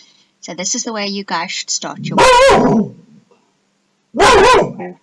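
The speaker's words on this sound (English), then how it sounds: "That's the dog barking at warthogs." A dog barks at warthogs, several loud close barks and yelps arriving in two bursts, the second after a short pause, while someone talks over the start.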